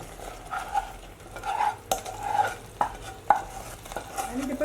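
Sugar syrup goes into cooking halwa in a pan, giving a soft sizzle broken by repeated scraping and clinking stirring strokes at close range, with no talk.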